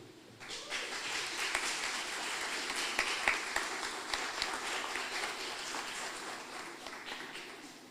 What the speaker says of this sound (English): Let's have a round of applause for Noah again, please.